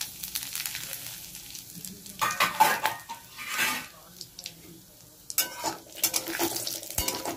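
Whole cumin, garam masala and bay leaf tempering in hot oil in a pan, crackling and sizzling while being stirred, with irregular metallic scrapes and clinks of a utensil against the pan, close by, swelling and easing in bursts.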